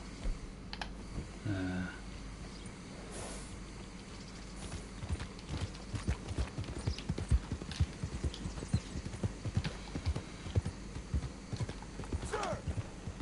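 Horse hooves clip-clop steadily in a Red Dead Redemption 2 game scene, a rhythmic clatter of fairly close steps over ambient game sound, with a brief whinny near the start.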